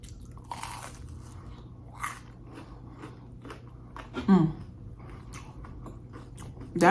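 Bites into a crunchy grilled cheese sandwich on sourdough bread with pepper jack and cheddar: close, sharp crunches, a louder one mid-way and another at the end, amid quieter chewing and mouth sounds.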